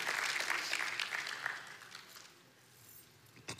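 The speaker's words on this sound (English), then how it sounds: "let's give those online a welcome today, a warm welcome of applause" A church congregation applauds at a Sunday service, a brief burst of clapping that fades out after about two seconds, fairly faint and set in a large room.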